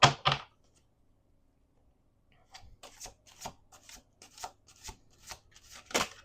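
A tarot deck gets riffled and tapped close by: a couple of sharp knocks, a quiet gap, then a steady series of papery flicks and snaps, with no talk.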